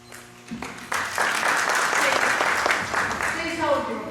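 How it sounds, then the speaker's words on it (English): Audience applause breaks out at a town council candidates' debate, starting with scattered claps and swelling after about a second into a dense, steady round that carries on to the end. "Please hold your applause."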